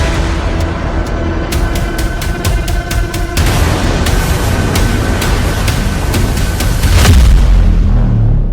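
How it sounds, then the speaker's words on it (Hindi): Iranian Zulfiqar missiles exploding in Israel: a steady roar of heavy booms and rumbling blasts with sharp cracks, fairly loud and continuous, heard without speech. "इजराइल में ईरान की जुल्फिकार मिसाइलों के धमाके"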